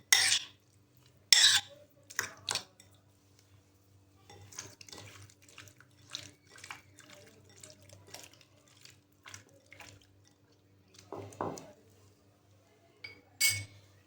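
Chicken being mixed with salt and egg white in a bowl: scattered soft clinks, wet stirring and squelching sounds, quiet and close, with a few sharper knocks against the bowl at the start and end.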